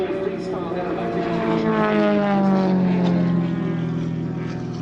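A large-scale radio-controlled model aircraft flies freestyle aerobatics, its propeller engine droning loudly with a steady buzz that slides down in pitch as it passes, while people talk underneath.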